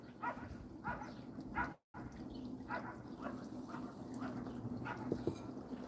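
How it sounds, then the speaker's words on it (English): A chained dog barks repeatedly in a steady series of sharp barks at moderate distance, with a brief gap mid-sequence and a faint voice underneath. "what are you barking at?"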